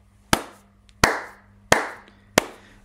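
Four slow, deliberate hand claps ring out loud and close, each a sharp smack with a short decay, evenly spaced about two-thirds of a second apart.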